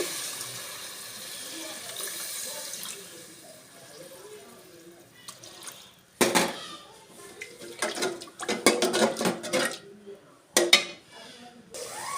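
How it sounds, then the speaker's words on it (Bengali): Water is poured into masala frying in a pan for a Bengali boal fish curry. A soft hiss under speech gives way to sudden loud bursts of splashing sizzle and clattering utensils. "আমার মশলাটা প্রায় লাল হয়ে এসেছে, আমি একটু জল দিয়ে দেব।"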